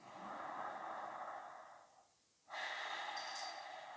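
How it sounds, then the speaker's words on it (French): Ujjayi yoga breathing during an Ashtanga practice: a steady, hissing ocean-like breath held for about two seconds, a short quiet pause, then another long breath, close and fairly loud. "Et on revient à notre respiration Ujjayi"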